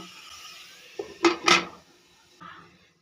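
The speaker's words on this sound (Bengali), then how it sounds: "আমি ঢাকা দিয়ে দু মিনিট মতো কুক করে নেব" A lid set onto a cooking pot over a low gas flame, with a soft knock followed by two sharp metallic clanks close up and a faint clink afterward.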